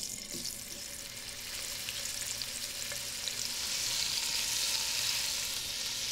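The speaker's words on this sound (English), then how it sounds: "Just salt, pepper, and then I'm going to brown them in the pan." Beef pieces brown in a single layer in a pan for beef bourguignon, a steady close sizzle and crackle that holds throughout and swells slightly toward the end.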